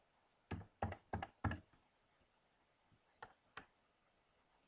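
A password is typed on a computer keyboard: a quick burst of four sharp key taps, a pause, then two more isolated taps, close and clear in a quiet room.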